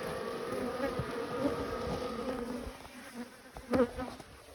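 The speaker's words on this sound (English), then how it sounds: "And of course we got a lot of bees again on this wall over here." Many bees hum in a dense, close, continuous drone at a hive wall, the buzz swelling and dipping as individual insects fly past.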